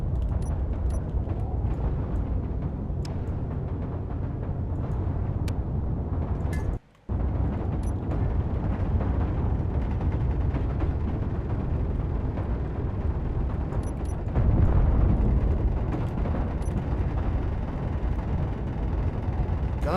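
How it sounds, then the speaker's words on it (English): Gunfire strikes a ship in the space game Space Engineers amid a constant loud rumbling drone of engines and impacts, with a brief dropout near the middle and a heavier surge of blasts toward the end. "we're getting shot."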